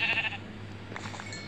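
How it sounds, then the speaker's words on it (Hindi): Goat bleating in the Minecraft video game, a short wavering cry at the start, then fading into quieter game ambience. "सबसे पहला हमारा काम स्टार्ट होगा एक बकरी को मार के।"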